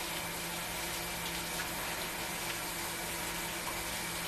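Hot tap water runs steadily from a faucet while doughy hands are rinsed clean, a continuous broadband splashing rush with no voices.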